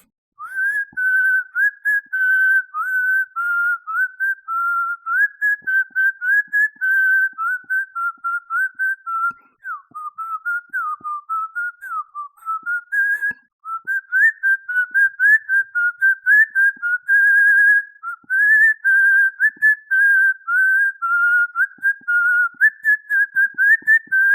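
A person whistles a tune without pause, clear and close, the wavering notes sliding up and down with only brief breaths between phrases.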